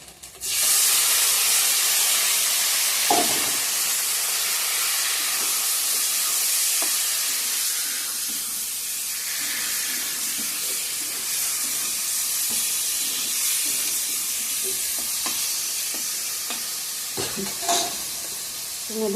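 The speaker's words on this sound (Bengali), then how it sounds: "শুকনি মাছটা দিয়ে দিছি তো ভাজা ভাজা হয়ে গেছে এখন কচু শাকটা দিয়ে দিব" Taro greens frying in a pan with dried fish give a loud steady sizzle and hiss, with scattered stirring scrapes and clicks running throughout.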